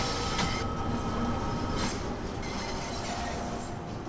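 A London Underground train running away in Train Sim World, a continuous rumbling roar of wheels and motors with faint rail squeal, steady and close throughout.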